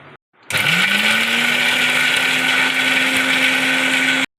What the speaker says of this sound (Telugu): దీన్ని ఫస్ట్ మిక్సీ వేసేసుకుందాం.